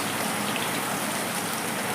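Garlic tempering sizzling hard in hot oil while cooking soya muitha, a steady, dense hiss with no pauses, close and fairly loud.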